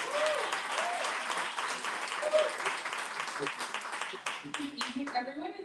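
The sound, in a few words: audience applause at awards ceremony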